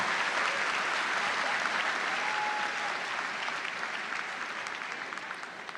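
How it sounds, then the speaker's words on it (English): Loud, dense applause from a large audience at a university commencement ceremony, sustained throughout and gradually tapering toward the end. "Let's have a round of applause for the graduates"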